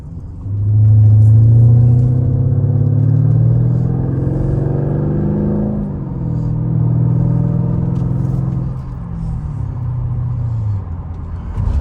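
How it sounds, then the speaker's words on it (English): A 2011 Mercedes SL550 Night Edition with mufflers cut out to straight pipes drones with a deep, loud exhaust rumble while driving, swelling under acceleration, easing off, then building again. "The mufflers are cut out, so a straight pipe has a nice, perfect sound to it."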